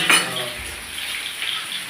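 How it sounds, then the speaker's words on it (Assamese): Onion, panch phoron and a couple of dry chillies fry in hot oil, a brisk close sizzle with a quick metallic clink of a utensil against the pan near the start. "এয়া তেলত পিঁয়াজ, পাঁচফোৰণ আৰু শুকান জলকীয়া দুটামান দি দিলোঁ।"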